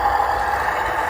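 A WPL C54 RC crawler truck's small electric motor creeps slowly up a hill, giving a steady, close whine with a constant low hum underneath and no breaks or voices.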